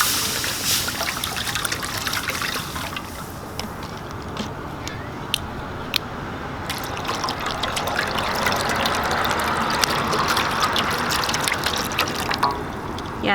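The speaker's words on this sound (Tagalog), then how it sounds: "magpapakulo lang po tayo ng tubig dito sa ating kawali" Water pours and trickles into a wok-style pan for a fish soup of pompano, a continuous splashing flow that shifts and grows fuller as the pan fills, with a few clinks of metal along the way.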